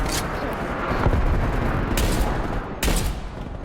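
Loud gunfire in a first-person shooter plays over dense game noise, with a few sharp separate shots standing out near the start and again toward the end.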